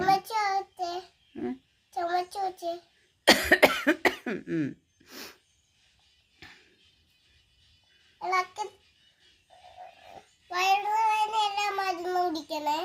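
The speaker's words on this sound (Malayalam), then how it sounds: "ഡോക്ടർക്കും ചുമ" A doctor coughs several times, sharp bursts heard near and clear between stretches of babbling and childlike voices, with short silent gaps in between.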